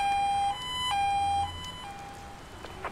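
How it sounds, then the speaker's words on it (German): Emergency vehicle siren in the video game Emergency 4, a wailing two-tone electronic horn stepping between pitches, moderately loud at first and then fading back in the game's mix. "Das sind ja E-Hörner, da willst du dir einfach nur die Ohren abkratzen"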